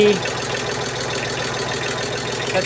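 A small Kubota L2000 tractor engine runs in fourth gear with a steady, close, mid-pitched chugging drone throughout.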